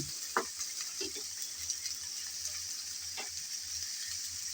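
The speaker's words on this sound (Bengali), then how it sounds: "একটু নেড়ে চেড়ে নিলাম" Pickle cooking in a pan is stirred, with a soft continuous sizzle and a few light scraping knocks of the spoon, quiet and close.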